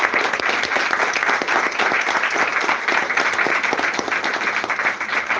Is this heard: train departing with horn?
no